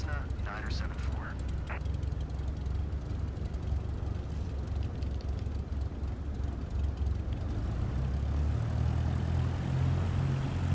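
A Cessna taking off on runway 16 right in Microsoft Flight Simulator 2024 on PS5: a steady, droning propeller engine that grows fuller and louder toward the end, with someone talking over it early on.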